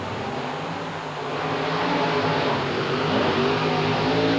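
Loud, roaring engines of two Chevrolet monster trucks rev hard and rise in pitch as they race at a 1990 event in Flemington, New Jersey, a dense continuous motor drone that grows louder after the first second.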